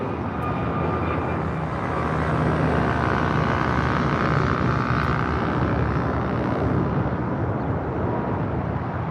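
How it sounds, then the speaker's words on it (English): Delta Airbus A330 touching down on runway 25 left at LAX, a steady, loud roar of jet engines and rushing air that holds evenly throughout with no voices. "Delta A330 about to touch down on 25 left"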